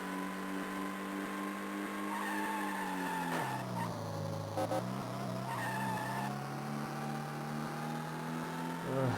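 A car pulls a handbrake 180 in the Game Boy Advance stunt-driving game Stuntman, its tires letting out a long, loud squealing skid over a droning engine tone that dips and rises as the car spins around.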